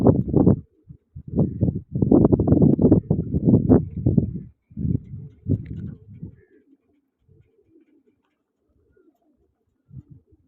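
Pigeons coo in loud, close bursts of throaty rolling calls for several seconds, then fade to scattered faint murmurs before one last short coo.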